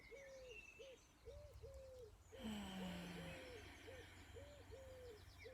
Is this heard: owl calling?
yes